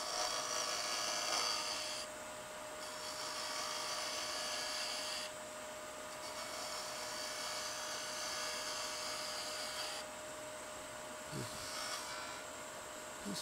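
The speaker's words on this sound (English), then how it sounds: "Now I'm going to go back to that 3/8 inch spindle gouge, and I'm just going to make a round ball at the end" Wood lathe spinning steadily as a 3/8 inch spindle gouge cuts a small spindle, a continuous high whirring hum with a bright hiss that drops and returns as the tool meets and leaves the wood.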